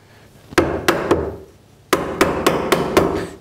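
A chisel is struck into wood to cut out the waist of a portable deck chair part, giving three sharp mallet blows, a pause, then five more evenly spaced, close and crisp.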